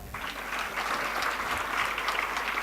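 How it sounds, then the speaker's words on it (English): An audience claps at a school prize distribution ceremony, a steady, moderately loud wash of many hands that holds evenly for nearly three seconds without speech. "Please make sure you clap very loudly."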